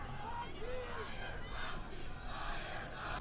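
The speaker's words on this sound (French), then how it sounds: "Et là, t'entends la foule, écoutez bien" Protest crowd chanting a rhythmic slogan, a steady roar of many voices sustained throughout, moderately distant with a single voice rising briefly above the mass.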